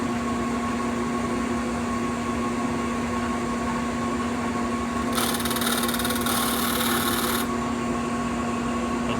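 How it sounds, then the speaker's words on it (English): A Shopsmith disk sander and its dust collector run loudly and steadily, with a constant motor hum and whine, and a harsher gritty burst partway through as wood is pressed to the sanding disk. "So I'll turn the machine on, turn the dust collector on."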